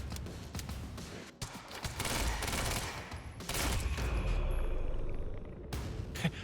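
Automatic weapon fire in the video game Quantum Break comes in loud, rapid bursts separated by short gaps, with heavy booming impacts in the later stretch and no talking.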